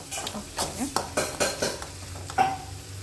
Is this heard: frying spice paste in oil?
yes